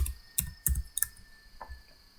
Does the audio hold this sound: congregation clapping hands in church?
no